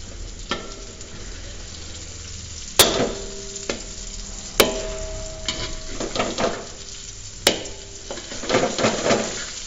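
Chili and shrimp paste with tamarind stir-fried in a pan, giving a steady close sizzle broken by a few sharp spatula knocks and scrapes against the pan.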